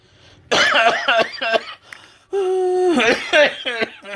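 A voice imitating a fit of coughing, two bursts of harsh, rapid hacking coughs with wheezy, strained tones between them.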